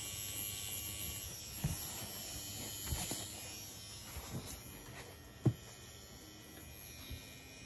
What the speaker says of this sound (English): tattoo machine here.